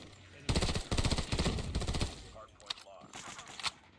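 Rapid automatic gunfire from an M16-style rifle in a Call of Duty video game, loud bursts of repeated shots in a fast rhythm, then a few scattered single shots.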